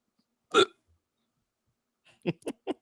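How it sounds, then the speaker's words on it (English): A person hiccups once, then three more times in quick succession after a pause, close and clear with no talk over it. "Oh, I got hiccups."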